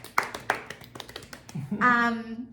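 Hand clapping from a knitting podcast host marking a yarn giveaway winner, a few sharp claps near the start before a voice takes over.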